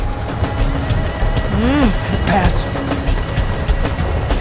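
Rain falls steadily in the video game Call of Duty Black Ops 2 as a continuous hiss, mixed with other game sounds and a voice speaking over it.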